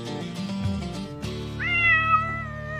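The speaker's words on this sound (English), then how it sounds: "World's loudest cat." A cat lets out a long, loud, drawn-out meow in a garage workshop, rising in pitch and holding steady, following a brief earlier burst of sound; no talking over it.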